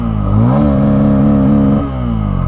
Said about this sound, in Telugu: ఎగ్జాస్ట్ సౌండ్ విన్నారు కదా.